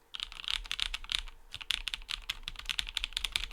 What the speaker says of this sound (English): Let me try typing a little harder just to hear the difference.